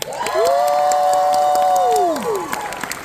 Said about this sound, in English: Cue the clapping.